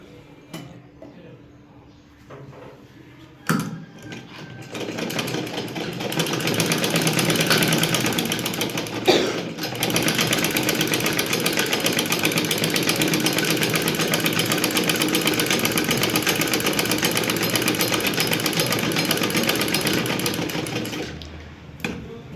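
A sewing machine stitches a zipper onto fabric, a steady mechanical whir running continuously for most of the stretch with a brief pause partway, preceded by handling noises and some talk.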